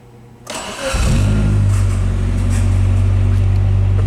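A 1995 Geo Tracker LSi with about 106,000 miles starts: a brief crank catches within a second, and the engine settles into a loud, steady idle close by.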